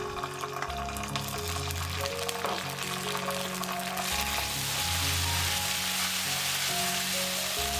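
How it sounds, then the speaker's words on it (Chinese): Chili bean paste sizzles and fries in hot oil in a wok for beer-braised duck, a close, continuous crackling hiss over a low hum, with occasional scraping as it is stirred. "把锅烧热，倒入油，加1勺豆瓣酱炒出红油"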